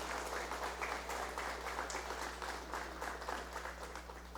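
A crowd at an indigenous consultation event in Chiapas applauds the president of Mexico with steady, rhythmic clapping. The clapping sounds somewhat distant and sits over a constant low electrical hum, with no speech.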